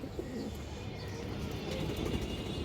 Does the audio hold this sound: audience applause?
no